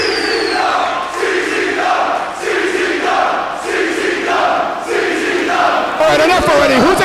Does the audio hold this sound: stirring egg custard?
no